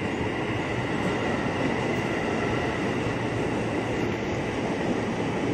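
Steady, loud rumble of a JR East 205 electric commuter train, 12 cars, at Depok station platform, a continuous rolling drone with no voices.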